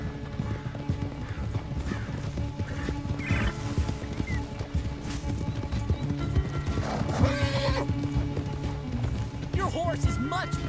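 Horse in Red Dead Redemption 2 galloping with quick, continuous hoofbeats, broken by a few whinnies, while voices talk over the game.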